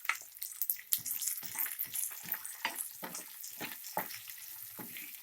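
Green chillies and poppy seeds fry in a pan over a medium flame, giving a steady crackling sizzle broken by repeated scraping stirs, close and moderately loud, with no talking.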